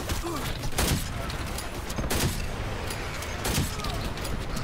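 Bursts of rapid gunfire in the shooter Dirty Bomb, three loud volleys spaced about a second and a half apart over a steady background din.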